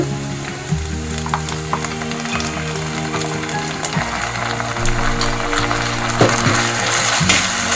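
Ginger-garlic paste and spices fry in oil for bagara rice, a continuous moderate sizzle with scattered crackles and stirring scrapes over a low steady hum.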